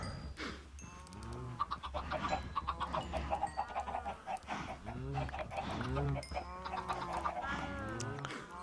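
Minecraft chickens cluck and squawk repeatedly in a busy, layered chorus over a steady low hum, continuous throughout with no pauses.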